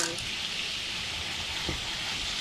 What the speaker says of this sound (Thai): แค่นี้ค่ะตั้งไฟไปกวนๆ คนๆ ไป